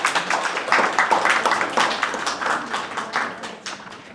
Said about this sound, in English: This claps goes to the second team.